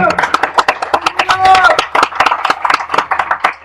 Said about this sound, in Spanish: Un aplauso a Yeshua por eso.